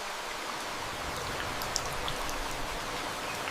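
Steady rain falling in the Amazon jungle, a dense even hiss of drops on foliage with a few sharper close patters, continuous and unchanging with no voices.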